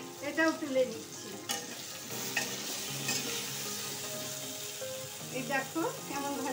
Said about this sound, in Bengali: এবার এই তেলে কুমড়োগুলো ভেজে নেব